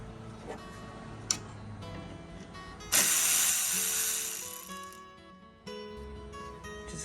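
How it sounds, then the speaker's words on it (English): A ratchet turns while radiator bolts come out of a Lexus ES350, with quiet scattered clicks and ticks, one sharp knock and a longer burst of hissing rattle in a quiet garage, with no voices. "Remove these 2 bolts."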